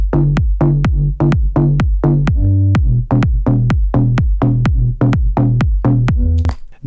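Korg M1 organ bass layered with a plucky bass and a kick drum in a deep house remix of a Christmas pop song, loud and steady with regular thumping beats and a brief pause partway through.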